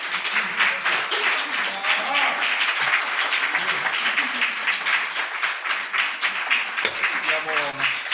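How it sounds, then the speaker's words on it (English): An audience at a book launch panel claps in a sustained round of applause for several seconds, dense and even, with voices faintly audible underneath. "Another round of applause for all 3 speakers."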